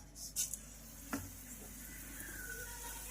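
Mustard seeds, cumin and curry leaves in two spoons of hot oil in a kadai give a faint, soft sizzle with a few quiet pops early on, then settle into a low, steady crackle.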